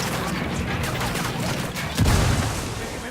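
Frag grenade in Ghost Recon Wildlands goes off as one heavy, muffled boom partway through, rising out of dense, constant gunfire-like game noise.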